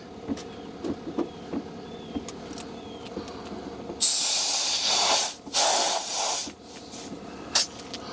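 Quiet tapping at first, then bursts of loud hissing air from a nearby Viair portable compressor hose inflating an RV tire, pausing briefly between blasts, with a final short puff.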